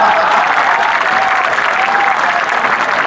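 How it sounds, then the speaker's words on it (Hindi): Steady, dense applause from a large audience at a Hindi comedy poetry gathering (kavi sammelan), loud and continuous throughout with a faint voice briefly audible underneath. "आप सबसे निवेदन करता हूं एक बार फिर मेरे लिए इसी बात पर तालियां बजाएं"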